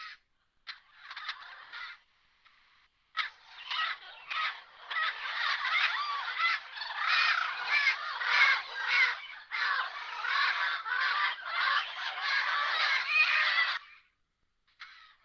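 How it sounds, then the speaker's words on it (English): Parrots squabbling in a tree give off a long run of harsh, overlapping squawks and screeches, nearly continuous and fairly close, with brief gaps near the start and end. "The parrots are fighting."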